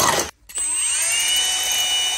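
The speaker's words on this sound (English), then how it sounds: "once you got the holes drilled" A power drill bores holes into a tin can heater. It starts with a short burst, cuts out briefly, then runs steadily with a rising whine, loud and close, with no talking.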